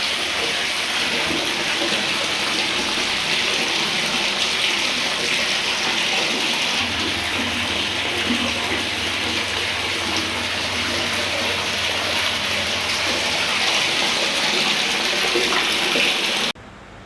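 Dirty yellow water runs from a household tap in a steady, loud gush, continuous from start to finish with no talk over it.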